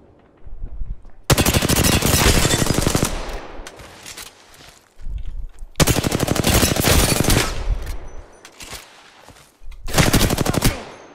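Rapid automatic gunfire in the video game Apex Legends rips out in several loud, close bursts of dense rattling shots, separated by brief quieter gaps with scattered single shots.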